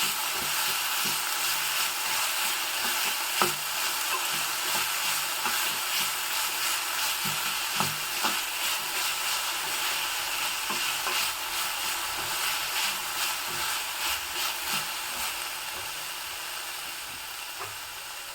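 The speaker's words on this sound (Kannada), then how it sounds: "ಬಸಳೆ ಸೊಪ್ಪನ್ನ ಎಣ್ಣೆಯಲ್ಲಿ ಹಾಕಿ ಹಿಡಿತಾ ಇದ್ದರೆ ತುಂಬ ಒಳ್ಳೆ ಪರಿಮಳ ಬರುತ್ತೆ" Malabar spinach leaves sizzling in hot oil in a pan for Sankethi Brahmin cooking, a steady bright frying hiss with occasional soft stirring clicks and pops, no voices.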